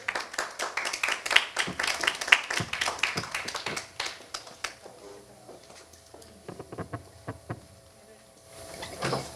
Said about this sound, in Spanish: Aquí recibimos con un fuerte aplauso, por favor.